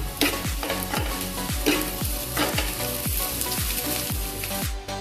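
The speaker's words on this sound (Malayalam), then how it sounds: "കറിവേപ്പില, പച്ചമുളക് നന്നായിട്ട് ഇളക്കി കൊടുക്കാം." Curry leaves and green chilies are stirred as they fry in oil for an egg puff filling, a loud sizzle under a quick, regular rhythm of spatula strokes across the pan.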